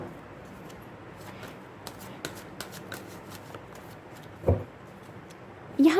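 Tarot cards are shuffled and drawn by hand in a quiet room, giving soft repeated riffling flicks with a couple of louder slaps and card handling near the end.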